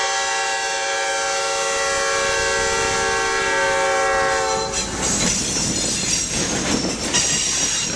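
A loud train horn blares with steady tones, then gives way to the rumble and clatter of a railroad museum train rolling past close by.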